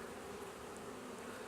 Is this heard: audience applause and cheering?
no